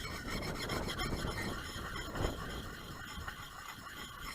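Steady, continuous rasping as a blade is rubbed in round elliptical strokes on a sharpening stone to take off the burr, outdoors in the woods; close, fairly loud scraping with no pauses and no talking.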